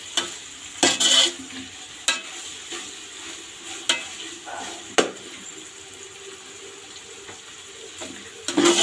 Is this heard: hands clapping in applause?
no